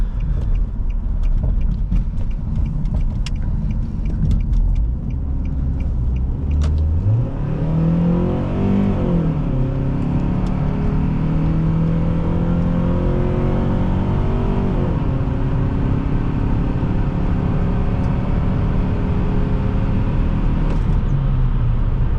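A 2006 Nissan Altima 2.5 S engine accelerates hard, its pitch climbing through gear shifts in a steady loud roar heard from inside the vehicle.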